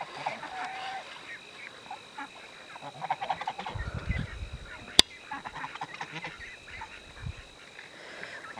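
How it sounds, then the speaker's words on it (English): A large garden flock of about forty to fifty ducks, including four mother ducks with their ducklings, gives off scattered quacks and honking calls over a steady outdoor background. The calls come in irregular bursts with no talking. "But there's four mama ducks, okay?"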